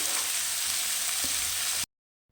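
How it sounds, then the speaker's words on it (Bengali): Onion dropped into hot oil to start a meat curry: a loud, steady hissing sizzle up close with one faint clink, cutting off abruptly into silence, no talk. "মাংস কষার জন্য পেঁয়াজটা দিয়ে দিচ্ছি গরম তেলে।"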